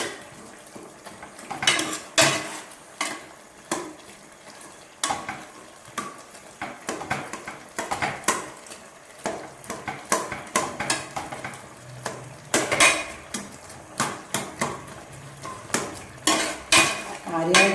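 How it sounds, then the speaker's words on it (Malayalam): Cooked vegetable pieces for sambar are mashed in a pressure cooker with a metal utensil, giving repeated clanking scrapes and knocks against the pot in an irregular rhythm, close and fairly quiet. "കഷ്ണമൊന്ന് നമ്മൾ ചെറുതായിട്ട് നല്ല രീതിയിലൊന്ന് ഉടച്ചു കൊടുക്കണം."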